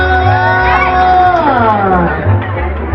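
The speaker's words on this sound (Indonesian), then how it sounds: "Tepuk tangan sekali lagi Bapak Ibu." A crowd at a National Christmas celebration in West Halmahera cheers and whoops loudly during heavy rain, with dense babble and shouts throughout; no clear clapping stands out.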